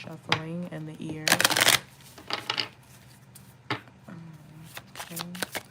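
A deck of cards is shuffled loudly and close, with crisp riffling bursts and flicking cascades in uneven spurts, while a voice murmurs intermittently in between.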